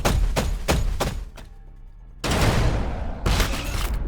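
Rocket volleys and explosive thuds in a Warhammer 40000 Battlesector multiplayer battle between Tyranid and Tau forces, several sharp bursts in quick succession, a short lull, then two long heavy roaring salvos.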